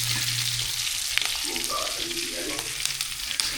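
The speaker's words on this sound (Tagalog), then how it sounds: "Natalsik ng mantika ah." Hot cooking oil spatters and sizzles steadily while onions fry in a pan, a dense close hiss with a few sharper pops and faint stirring sounds.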